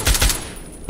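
Sniper rifle fire in the video game Fallout 3: two heavy, booming shots in quick succession at the start, then a fading tail and the onset of another blast at the end.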